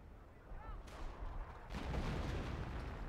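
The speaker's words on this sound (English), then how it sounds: "Artillery coming in." Artillery shells in a Company of Heroes 1 battle, a brief whistle followed by two rising bursts of booming impacts and crackling fire that grow louder toward the end.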